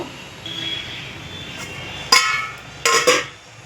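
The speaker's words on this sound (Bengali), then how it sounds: "আমি ঢাকা দিয়ে দিলাম" A metal lid set onto a cooking pot, giving two or three sharp clinks close by with short ringing tails, after a quiet stretch with faint kitchen noise.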